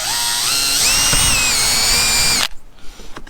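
A cordless drill with a 1/8 inch bit bores into the plastic hull of a kayak at the end of a crack, a loud steady whine rising in pitch for about two and a half seconds before stopping abruptly, up close with no talking.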